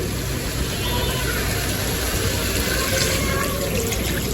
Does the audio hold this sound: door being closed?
no